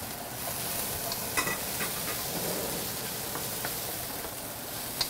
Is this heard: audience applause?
no